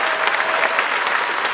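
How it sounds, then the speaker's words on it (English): Commencement audience at a UC Davis School of Medicine ceremony breaking into applause, a thick, sustained roar of many hands clapping, loud and even from start to finish. "round of applause for all the support systems in the house"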